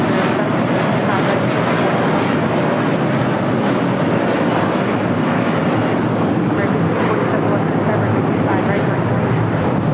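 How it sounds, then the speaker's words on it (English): United Airlines Boeing 757-300 taking off at LAX for Kailua Kona, a loud, continuous broadband jet roar that stays steady and close throughout, with no break in the engine noise. "This is United Airlines 2373 taking off to Kailua Kona on a 757-300"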